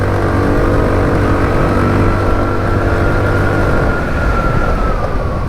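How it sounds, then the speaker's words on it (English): A Daytona Versus 125cc scooter engine revs and runs continuously up close, its buzzing drone rising slightly in pitch near the end, with no one talking. "The engine breathes and it feels nice when you rev it."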